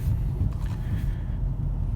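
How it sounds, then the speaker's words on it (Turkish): A Fiat Egea 1.3 driving over a rough, broken road surface, heard from inside as a low, continuous rumble with faint bumps and rattles, fairly quiet and steady across the short stretch. "Şu an bak bakın bozuk bir zeminde gidiyorum"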